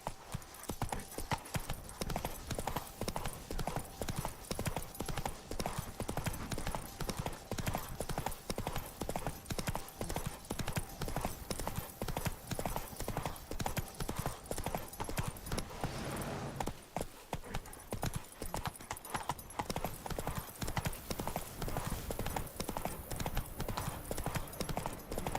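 Roach the horse trots along in The Witcher 3 with continuous rhythmic clip-clop hoofbeats, steady and fairly close, and a brief pause partway through; game sounds sit faintly underneath.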